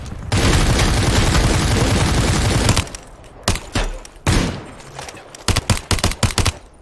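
Gunfire in the Super People battle royale video game, opening with a long loud sustained burst of automatic fire, then a string of separate sharp shots and short bursts close by.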